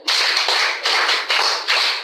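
A classroom of girls at a secondary school clap for a classmate in steady, close bursts of applause, four surges of clapping that swell and ease in turn.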